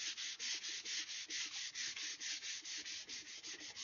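Hand sanding with small strips of sandpaper on a swivel breech rifle kit part, a steady rhythmic back-and-forth rasping of about five strokes per second, close and dry, with no talk.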